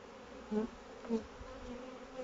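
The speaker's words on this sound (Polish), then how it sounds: "Pszczoły dopiero zaczęły latać" Honeybees buzzing around a hive in short swells, a couple of louder passes standing out over a steady low insect hum.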